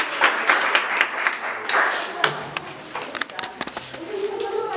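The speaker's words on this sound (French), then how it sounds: "Je vous prie d'applaudir chaudement l'arrivée de notre frère bien-aimé" Guests at a Haitian wedding in Brazil applaud warmly as a guest arrives, with brisk clapping bursts over a hall ambience while people talk in French.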